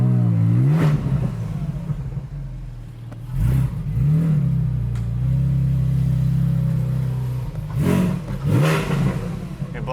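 A car engine with an aftermarket exhaust revs up and down in several loud, close bursts over a steady, droning idle, with deep rumbling swells and short pauses between them.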